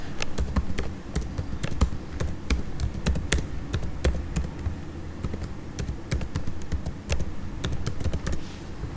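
Keys on a computer keyboard clatter in quick, irregular bursts of typing, close and fairly loud over a faint background hum.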